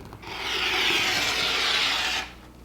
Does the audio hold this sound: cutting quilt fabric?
yes